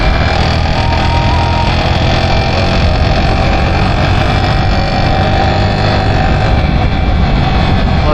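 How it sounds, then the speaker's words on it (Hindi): A Yamaha motorcycle engine making a bad, abnormal noise, a loud, continuous, rough mechanical drone with a steady hum that stays close and unbroken throughout, with no talk over it. "बहुत आवाज़ कर रही है बाइक"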